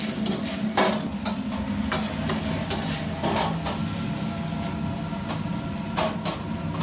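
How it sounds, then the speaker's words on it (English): Bok choy and shiitake mushrooms stir-fried in a pan, a steady sizzle throughout with repeated scraping and clacking of a utensil tossing the vegetables, close and fairly loud, no voices. "Chef Hui continually moves the vegetables around the pan, adding other ingredients as he goes"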